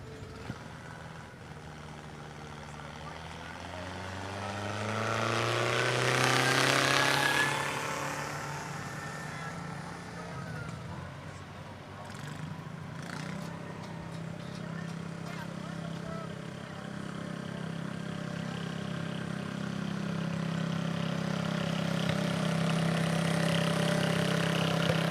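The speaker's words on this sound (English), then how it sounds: "Last tractor in this class will be Xander Cook from Villa Grove on a tractor he calls the Beast" A pulling tractor called the Beast at a county truck and tractor pull in Chrisman, its engine surging loudly with a rising roar, then settling into a steady throaty idle with crowd noise and an announcer in the background.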